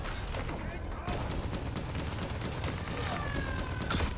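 Rapid gunfire in Call of Duty: Black Ops 3 while shooting down enemies, a steady stream of automatic shots with mechanical clatter that runs throughout and stays fairly close.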